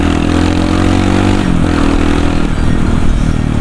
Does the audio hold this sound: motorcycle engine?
yes